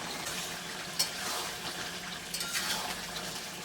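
Meat frying in a pan with green and dried chillies for a village-style feast, a steady soft sizzle with occasional clinks of a spoon or pot, no talking.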